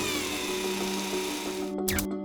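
The Curiosity rover drills a 1.6 centimeter shaft into Martian rock, a steady whirring grind with a low tonal hum that runs throughout and then cuts off near the end.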